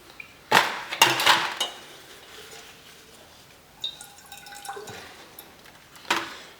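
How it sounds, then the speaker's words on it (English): A shop towel dipped into mineral spirits and wiped around the cup of an Earlex 5500 spray gun gives a few close, sharp liquid clinks and splashes, followed by quieter rubbing and dripping. "I'm going to dip that shop towel down into this mineral spirits and clean the cup up a little bit inside"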